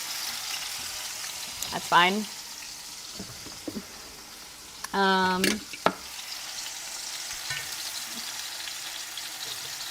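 Taco filling frying in a pan with a lot of oil gives a steady, close sizzle and crackle throughout, with a few brief bursts of speech over it.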